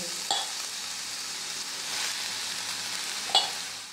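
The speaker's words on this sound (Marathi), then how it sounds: "सर्वप्रथम मी या कढईमध्ये 2 चमचे तूप टाकते आणि हा कीस मंद आचेवर असा परतून घेणार आहे" Grated sweet potato fries in ghee in a kadhai over low heat, giving a steady soft sizzle with two brief scraping stirs, close up and with no talk.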